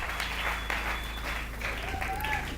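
A church congregation applauds for the Lord, a steady wash of clapping at moderate distance, with a faint voice and a thin whistle-like tone over it.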